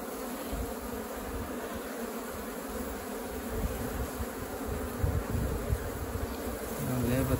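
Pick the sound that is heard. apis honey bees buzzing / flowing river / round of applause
apis honey bees buzzing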